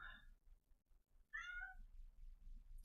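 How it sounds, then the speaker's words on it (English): A hungry house cat meows twice, a short call at the start and a longer, rising meow after a pause, both fairly close and clear with faint background rustle. "And my cat demands food."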